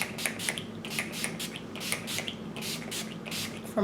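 Urban Decay All Nighter setting spray in Summer Solstice, a newly launched version, is spritzed close up in a series of quick, crisp bursts at a steady rhythm, with no talking.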